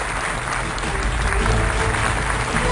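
Dense, steady applause from a large audience fills an awards ceremony hall as pop singers Li Yuchun and Chen Chusheng are called up for a popularity award, loud and continuous throughout.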